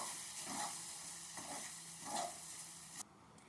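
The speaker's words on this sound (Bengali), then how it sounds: "একটু হলুদ গুঁড়ি একদম সামান্য ভালো করে নেড়ে এটাকে ভালো করে একটু কষিয়ে নেব" Potatoes with a pinch of turmeric powder are stirred and sautéed in a pan for a dhaba-style masala aloo curry, with soft scraping strokes over a steady low sizzle that cuts off abruptly near the end.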